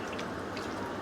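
Water pours into a simmering puti fish curry, a brief, soft, steady splashing trickle heard close with no talk.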